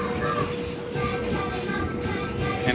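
Thomas the Tank Engine train ride at Greenfield Village, giving a steady, loud rumble of the rolling carriage with faint clatter, heard from on board.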